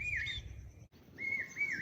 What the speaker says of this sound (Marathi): बघा तो पक्षी ओरडते